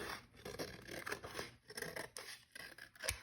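Paper covering a manila file folder being trimmed for a junk journal, a close, quiet run of crisp snipping and rasping cuts in an uneven rhythm, with no talking.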